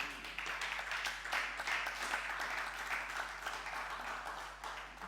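Church congregation clapping in praise of the Lord, a fairly faint, dense patter of many hands that keeps up steadily for several seconds, with a low hum underneath.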